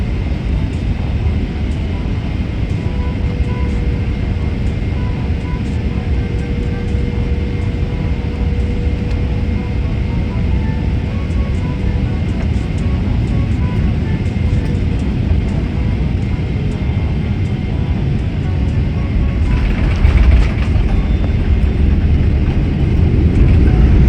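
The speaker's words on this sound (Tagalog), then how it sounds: "Na-landing na yung eroplano." Steady loud rumble of an airliner cabin during landing and touchdown on arrival at Doha, Qatar, with broadband roar throughout and a brief rise in noise near the end.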